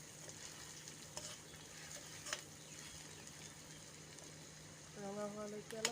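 Onions sizzling in oil over a low flame while being stirred throughout: a faint, even frying hiss with light scraping. A brief tonal sound rises near the end.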